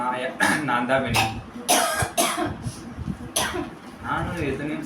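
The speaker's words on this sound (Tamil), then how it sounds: "இருமல் நிறைய வருது மக்களே." Repeated heavy coughing and throat clearing after taking snuff, loud and close, with a voice speaking between the coughing fits.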